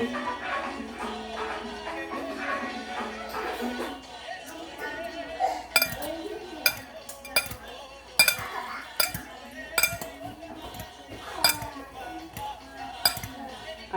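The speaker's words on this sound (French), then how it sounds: "On va bien mélanger les spaghettis avec les œufs." Utensils clink repeatedly against a bowl or pan while spaghetti is mixed with eggs in a home kitchen, giving sharp irregular taps and scrapes up close, with no talk.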